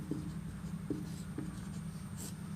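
Chalk taps and scrapes across a classroom board as a chemistry definition is written out, short rhythmic strokes over a steady room hum, close and fairly faint.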